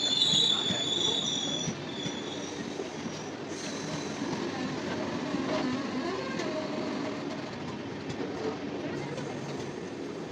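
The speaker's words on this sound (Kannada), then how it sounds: "ಇಲ್ಲಿ ನಮ್ಮ ಜೊತೆ ಕ್ರಾಸಿಂಗ್ ಆಗಿದೆ Secunderabad Thiruvananthapuram super fast express." A Secunderabad–Thiruvananthapuram Superfast Express rolls past at Kottayam railway station, a steady rumble of wagons and wheels with squealing, continuous and fairly close for the whole stretch.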